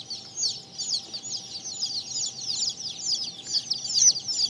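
Mottled Houdan chickens cluck and chatter close by in a steady, busy run of short calls with no pauses, over a faint background hum.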